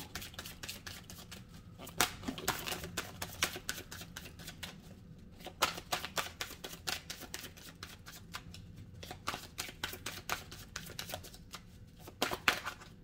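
Tarot cards are shuffled and drawn by hand, giving rapid soft riffling and flicking bursts that repeat in irregular clusters over a quiet background, close and fairly faint with no speech.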